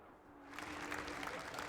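Crowd applauding a podium lockout at a sim racing expo, clapping that swells quickly into steady applause in a large hall, with some voices mixed in.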